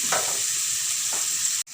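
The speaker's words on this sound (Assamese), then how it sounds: "মই অকণমান সময় পিঁয়াজখিনি ভাজিম।" Salted onions fry in a pan for an Assamese-style paneer gravy, giving a bright, even sizzle up close that runs on without pause and cuts out abruptly just before the end.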